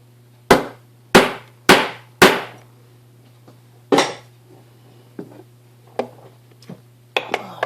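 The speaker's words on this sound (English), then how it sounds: "I use a urethane hammer, and I take that piece of silver" Sharp taps from a urethane hammer flattening a piece of silver, four strong blows in quick succession, then a louder single strike and several lighter taps spaced apart.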